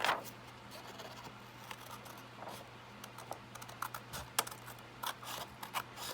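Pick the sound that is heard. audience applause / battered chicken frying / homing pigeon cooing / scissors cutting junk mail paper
scissors cutting junk mail paper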